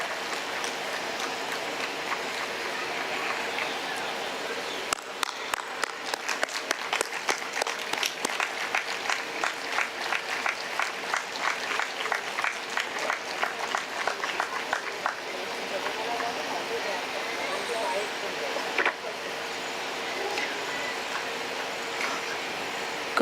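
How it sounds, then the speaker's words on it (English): Children at a literary festival clap in a quick, rhythmic burst that starts suddenly and fades after about ten seconds, over a soft background of room noise. "May I hear some claps?"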